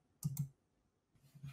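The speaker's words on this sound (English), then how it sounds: "click the Meet icon" In Google Chat, a pair of crisp computer mouse clicks comes in quick succession on the Meet icon, then a lone softer click follows after a short pause. Nearby and clear, with no talking.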